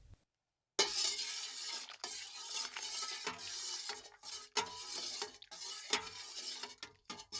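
A spoon stirs a pot of plant-based dye bath after copper sulfate is added, giving repeated sloshing, scraping strokes with small clinks against the pot, close and uneven in rhythm after a brief silence.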